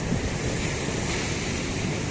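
Sea waves wash steadily onto the shore during night shi drum fishing, a continuous loud surf roar with wind buffeting the microphone and no voices.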